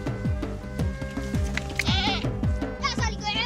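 A goat in a hot desert landscape bleats several times in quick, wavering calls, near and clear, with a person talking alongside.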